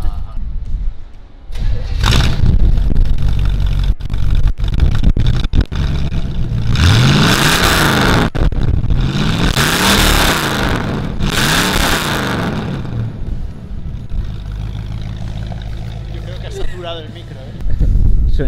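A 1966 Chevrolet Impala engine revs repeatedly in rising, roaring bursts in a garage, loud and close, with people talking over and around it.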